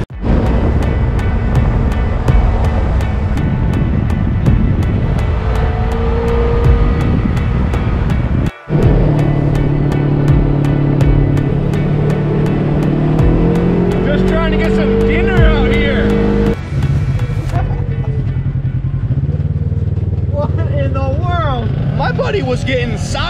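A brand-new 2021 Polaris RZR 1000 side-by-side drives out on a ride, its engine droning loud and steady with shifting pitch, wind buffeting, and people talking over it.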